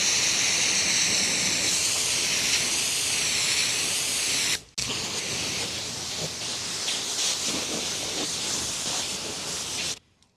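A chemical injector on a pressure washer sprays a high-pressure soap rinse at maximum, a loud, steady hissing rush that cuts out briefly, resumes, then stops abruptly near the end, with no talk.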